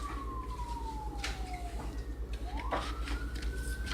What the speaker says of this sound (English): when you hear that siren